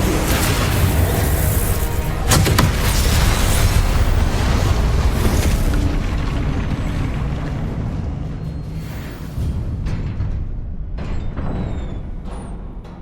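Spell effects are cast in the Hogwarts Legacy video game, giving loud booming blasts and bursts that pile up densely at first, then thin out into fainter separate hits.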